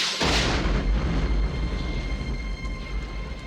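A cartoon cannon blast destroys a building: a sudden loud explosion that starts with a sharp crack and then rolls on in a long, heavy rumble with crackling debris, standing alone with no talk.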